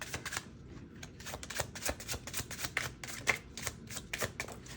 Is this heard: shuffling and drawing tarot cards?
yes